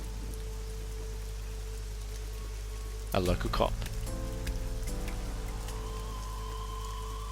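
A steady wash of rain falls in the video game The Somnium Files, continuous throughout, with a brief spoken line and some tonal game sounds partway through.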